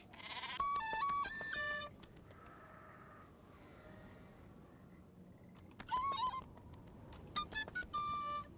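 Sheep in the Nancy Drew game The Haunting of Castle Malloy bleat in two clusters of short, wavering cries, first near the start and again toward the end, separated by a quiet lull with faint background ambience.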